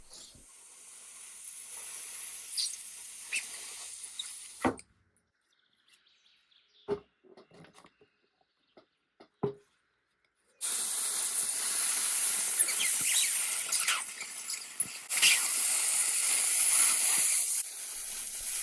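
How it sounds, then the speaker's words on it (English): A handheld steamer hisses against the glued joints of an old broken wooden stool seat to soften the glue. It comes in two long, steady bursts separated by a quiet stretch with a few faint clicks and knocks. "To take the seat apart, I use my steamer and soften the glue."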